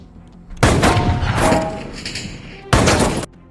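Sniper rifle shots from the film Jack Reacher ring out as two loud, sharp blasts with booming decay, the first long and reverberant, the second shorter, separated by a quiet gap.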